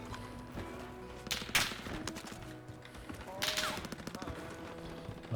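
Gunfire in a first-person shooter video game, with two bursts of shots around the second and fourth seconds over a busy, steady game soundtrack, with some talk mixed in.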